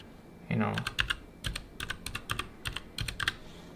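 Quick bursts of clicky typing on a STOGA MK22 compact mechanical keyboard, close and crisp, with short pauses between strokes and a faint voice underneath.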